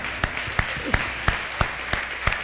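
A church congregation applauds during a Sunday celebration service, with sharp rhythmic claps standing out in a steady pattern over a dense wash of clapping, and a voice faintly audible beneath.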